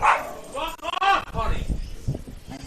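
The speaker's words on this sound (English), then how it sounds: "I don't know what the hell is wrong with that stupid ass dog." A dog barks and yips several times in quick succession, fairly close, mixed in with a voice talking over it.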